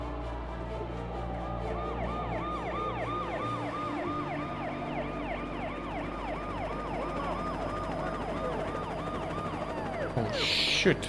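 A wailing police siren in the game Alan Wake Remastered cycles rapidly up and down continuously over a rumbling engine, with a brief burst of noise near the end.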